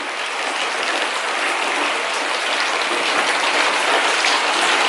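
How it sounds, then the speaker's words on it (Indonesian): Steady, noisy rain pours down continuously and close by, a dense broadband hiss with no pauses, heard at a backyard setup for building a tilapia fish filter from used materials. "lagi hujan kalau berisik ya suaranya"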